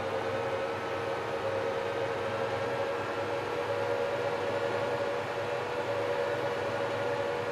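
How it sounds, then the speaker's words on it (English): A train nears a level crossing in Farming Simulator 22, with a steady sustained warning tone over a constant low rumble, even in level throughout and with no voices. "Hopefully that bloody train isn't approaching."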